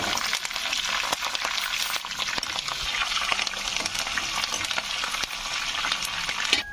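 Carrots frying with dried red chillies and curry leaves in a hot pan, giving a steady, close, continuous sizzle with faint stirring crackles throughout and no talking.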